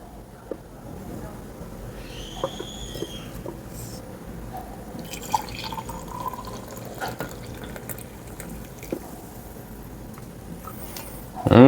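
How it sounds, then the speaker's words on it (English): Brewed coffee made with Cafemasy is poured into a cup, a quiet trickle and drip close by, with a few small clinks and a brief sound at the end. "I'll pour a cup of each."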